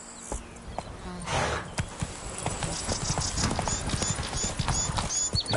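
Roach the horse gallops in Witcher 3: Blood and Wine, a steady run of close hoof clip-clops with a brief snort. There is no talk.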